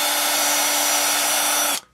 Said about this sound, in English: So I'm just going to get my drill.